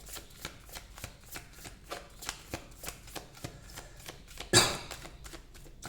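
A Sacred Traveler oracle card deck is shuffled close by, giving a run of crisp, evenly spaced card flicks, then a louder burst of riffling near the end.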